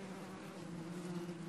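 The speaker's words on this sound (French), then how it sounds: "Et nous guettons leur bourdonnement." Bees buzz with a steady, low droning hum in a Cameroonian forest, continuous and fairly faint throughout the short stretch, with no talking.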